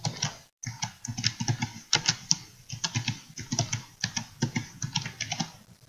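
Steady, fairly close typing on a computer keyboard, rapid irregular key clicks continuing for several seconds with brief pauses between bursts.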